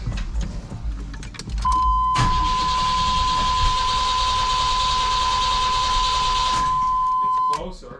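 A 1993 Chevrolet S10 with a 2.8 V6 after a tune-up cranks and catches, then runs at a steady loud idle with a rough rumble and a constant tone, close by, before cutting off.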